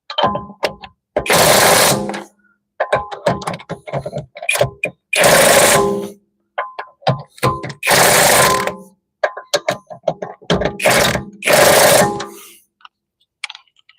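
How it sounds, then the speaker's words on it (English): Power tool torquing down wheel lug nuts while new tires are mounted, heard as repeated loud rattling bursts of a second or so each, separated by short quiet gaps. "Everything's tight too, so now we're going to torque it down."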